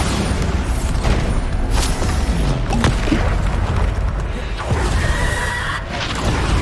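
The Bombarda blasting spell cast in the Hogwarts Legacy video game lands as a loud booming blast with crashing impact over a constant rumble of combat effects, close and dense throughout.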